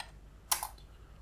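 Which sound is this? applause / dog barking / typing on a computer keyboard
typing on a computer keyboard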